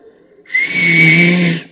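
At a film song launch press meet, a person gives one loud, sustained, shrill whistle that lasts about a second. A quieter murmur comes before it.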